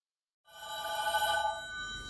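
A telephone bell starts ringing abruptly after a moment of silence, a bright sustained metallic trill that fades slightly toward the end, with no voices.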